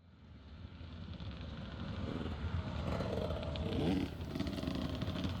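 Scramble motorcycles at a charity race in Northern Ireland, a steady rough engine roar that swells and stays loud as the bikes pull away from the start line, with wind noise underneath.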